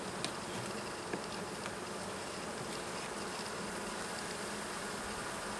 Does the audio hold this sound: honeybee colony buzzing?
yes